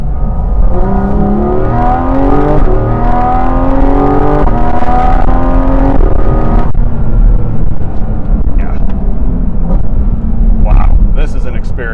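A 2023 Porsche 718 Cayman GT4 RS heard from inside as it is driven hard, its engine climbing through rising revs with steady road roar throughout and a voice talking over it.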